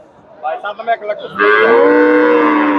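A two-tooth milk cow at Chandaikona cattle market lets out a loud, close moo, first a few short grunting pulses, then one long drawn-out bellow, with no talk over it.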